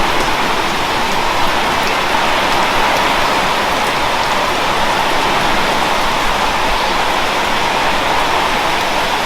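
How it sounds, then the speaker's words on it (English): Heavy rain pours steadily onto a back patio and cassava plants, a dense, unbroken hiss that stays loud and even throughout with no voices. "Yeah, very rainy."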